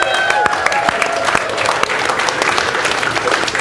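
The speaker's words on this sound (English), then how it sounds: "Keep that applause going for your 3 directors" An audience applauds steadily at a live showcase event, a thick, continuous patter of many hands with scattered sharper claps standing out, close and loud.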